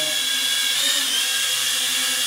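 FLYHAL E69 mini camera drone flying indoors, with a steady high-pitched whine from its small propellers that holds evenly close to the microphone throughout, and no voices.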